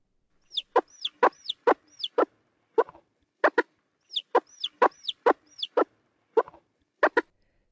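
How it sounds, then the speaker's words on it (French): A mother hen clucks to call her chicks, a sharp series of short, close clucks in two matching bursts of about eight calls each, with silence between. "Elle peut par exemple glousser"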